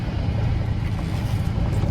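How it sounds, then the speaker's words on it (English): A loaded log truck pulls onto a paved highway, its diesel engine a steady, loud low rumble with road roar heard from inside or close by, no speech. "Loaded truck coming up on the blacktop right now."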